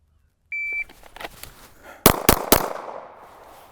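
Three sharp handgun shots fired in quick succession at an outdoor shooting range during a timed drill, preceded by a shot-timer beep, loud and close with fading echoes.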